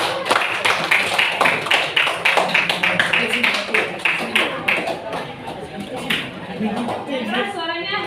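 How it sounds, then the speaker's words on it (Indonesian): A class in a classroom claps in a quick, regular rhythm of many sharp hand claps, fading toward the end as a voice begins speaking. "Tepuk tangan untuk Zaki."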